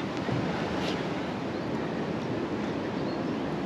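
Water rushing through an opened lock gate beside a sailboat cruising the Great Loop, a steady broadband roar and hiss held at a constant level throughout, with light wind noise over it.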